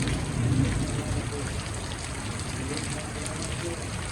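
Heavy rain falling steadily in a dense, even hiss on surfaces, with a louder low rumble at the start easing into a constant downpour.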